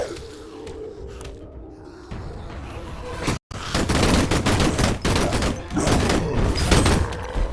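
Shooting video game gunfire: quieter game sounds first, then after a brief gap dense, loud rapid-fire bursts fill the rest. A voice is faintly present.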